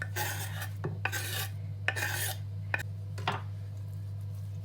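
A utensil scrapes and stirs through a salad with parsley in a bowl, making several separate raspy strokes with short clinks between them, close and moderately quiet over a steady low hum.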